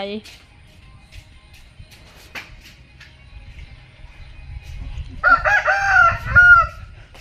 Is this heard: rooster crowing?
yes